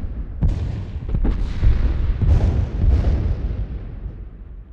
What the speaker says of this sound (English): We survived the bombardment.